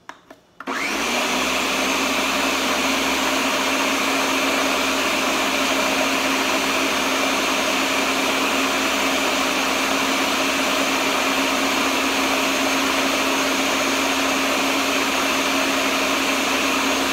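A blender mixes vegan chocolate pudding made with coconut milk, starting with a quick click and then holding a steady, loud, high-pitched whir with no talking for the whole stretch.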